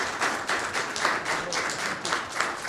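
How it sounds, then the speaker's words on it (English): A courtroom crowd bursts into spontaneous applause, dense rhythmic clapping from many hands that holds steady and close throughout. "the courtroom breaks into spontaneous applause"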